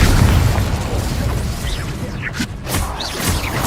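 Spell explosions from the video game Hogwarts Legacy, a loud, continuous barrage of booms, pops and crashing blasts with whooshing casts layered over dense battle noise.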